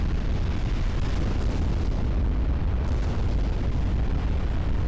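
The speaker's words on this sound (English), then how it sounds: "there goes a flash fire" A flash fire explosion rips through a warship in a 1910-era German naval battle game, a loud, sustained rumbling roar that stays heavy and dense for several seconds.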